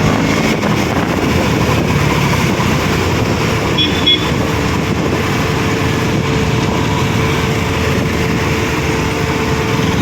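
A KTM Duke 200 motorcycle engine while riding, a steady loud high-pitched drone with heavy wind rush, continuous throughout with no talk.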